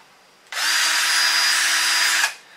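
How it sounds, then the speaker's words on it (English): A single steady burst of a power drill with a 1/8 inch bit boring through a metal roll cage bracket on a Honda Pioneer, loud and close, running about two seconds before winding down. "I got an 1/8 inch drill bit. Drill this bracket out"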